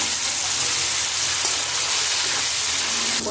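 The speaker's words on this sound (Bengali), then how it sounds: "আদা কাঁচা লঙ্কা বাটা দিয়ে দেবো আবার একটু ভেজে নেবো" Onion frying in a pan with ginger and green chilli paste for a prawn and pumpkin curry, giving a steady, loud broadband sizzle that hisses evenly throughout with no talking.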